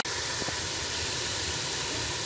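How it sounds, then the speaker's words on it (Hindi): Beef sizzling with masala in a pot, a steady loud hiss of frying without pause, with no one speaking. "बीफ को भी मसाले के साथ हम 3 से 4 मिनट के लिए भून लेंगे।"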